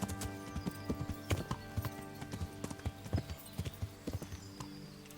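Horse hooves clip-clopping in Kingdom Come: Deliverance, a close, rhythmic run of sharp hoof strikes on hard ground with a low background hum.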